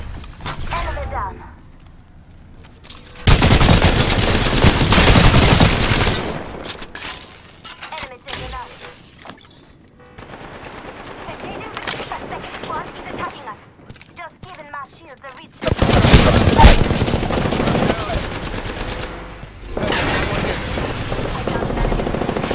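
Gunfire in a shooter video game, loud sustained bursts of automatic fire in two heavy stretches with quieter shots and clatter between, while a voice talks throughout.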